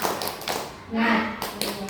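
Primary school class doing a rhythmic spirit clap together, several sharp group claps in a short pattern with voices mixed in.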